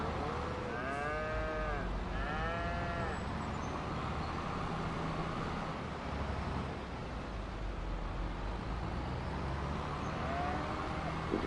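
Cattle mooing in the farming video game Farming Simulator 25, a couple of drawn-out moos early on over a steady hum of ambient noise, with a fainter moo near the end.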